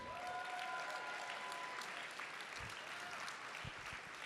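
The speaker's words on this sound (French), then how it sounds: "Oui, on peut les applaudir." Audience at a Parti Québécois party congress breaks into sustained applause, a dense roar of many clapping hands in a large hall that stays steady and gradually eases a little.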